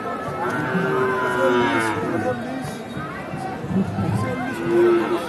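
Cattle moo repeatedly, deep and drawn out, amid a busy crowd at the Mataji livestock market, with people talking and bargaining nearby over a bull for sale.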